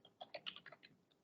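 Quiet, close clicks of a computer keyboard as a command is typed, about ten quick irregular keystrokes in a short burst with no talking.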